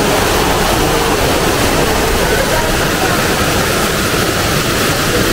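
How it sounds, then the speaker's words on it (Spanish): A waterfall roaring as a loud, steady, broadband rush of falling water that fills the whole stretch without pause, heard up close. "Aquí está la cascada."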